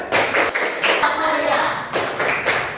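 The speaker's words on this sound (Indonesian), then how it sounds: "kita akan kembali mencoba tepuk sukses. Ya, sambil duduk saja. Tepuk sukses." A seated classroom group claps in a quick rhythmic pattern, hands striking together in bursts with voices chanting along.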